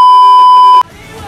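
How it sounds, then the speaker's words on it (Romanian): A fire alarm sounds as a loud, steady electronic tone that holds for about eight tenths of a second and then cuts off abruptly. Quieter room noise follows, with no talking. "a pornit alarma de incendiu"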